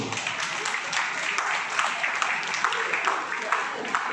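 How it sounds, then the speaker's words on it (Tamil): Loud, sustained audience applause fills a Tamil award ceremony at a Bharathi festival as the Chellamma Bharathi award is presented, a dense steady wash of clapping throughout with no voice over it. "உங்களது பலத்த கரகோஷத்தோடு"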